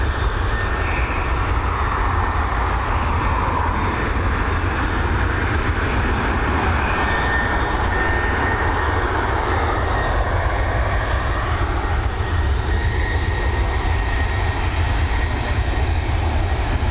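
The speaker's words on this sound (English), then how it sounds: "A 787-9 series here." Boeing 787-9 airliner arriving at Dublin Airport, a loud, continuous jet engine roar with a steady whine, holding strong and even throughout with no voices.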